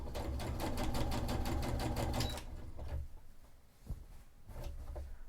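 A sewing machine runs a long stay stitch along a cosplay sleeve with a fast, even, close rattle for about two seconds, then stops. A few soft clicks and knocks of the machine and fabric follow, and no one speaks.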